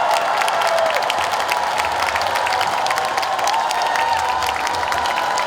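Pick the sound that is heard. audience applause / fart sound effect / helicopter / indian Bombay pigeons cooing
audience applause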